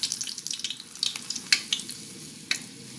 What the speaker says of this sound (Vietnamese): Chiên này thì mình chiên rất là mau.